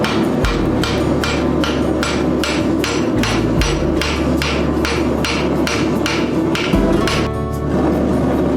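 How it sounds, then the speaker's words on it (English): Rivets are hammered on sheet metal while a small turtle shell is shaped, a fast, even run of sharp, ringing metallic blows, close and loud, with no talk. "if you ever wanted to practice riveting, this is a good way of doing it"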